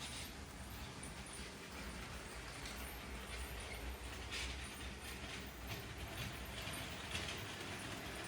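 Toy LEGO Maersk train pulling five cars along a plastic track, a steady low rolling rumble with faint rhythmic clicking throughout, running smoothly and alone without talk.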